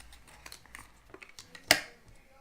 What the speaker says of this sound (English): now you're going to want to cut the flint part out, just the flint bit